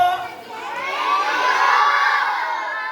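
A crowd of children at a feeding program in Umingan, Pangasinan shout and cheer together, their voices swelling to a loud, sustained roar and then easing slightly.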